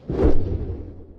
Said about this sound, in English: a whoosh over the transitions